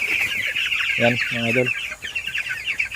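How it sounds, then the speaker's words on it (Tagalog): Twelve-day-old broiler chickens cluck nearby in a coop in a few short bursts over constant high chirping, while someone speaks briefly in the middle. "ito ang ating mga manok"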